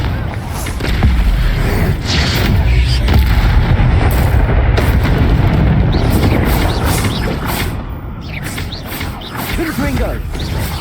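Confringo blasting-spell explosions in Hogwarts Legacy, loud booming blasts and mechanical clatter rolling on continuously amid other spell effects during combat.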